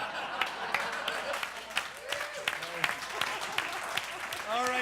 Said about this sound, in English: I don't know why you're clapping